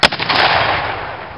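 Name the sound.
cannon fired at Battle of Okeechobee re-enactment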